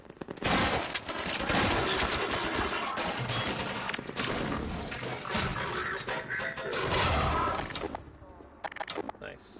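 Gunfire from a new weapon in the video game Half-Life 2 Episode 1 comes in dense, rapid bursts, mixed with crashing and breaking impacts. A voice talks at times over the shooting.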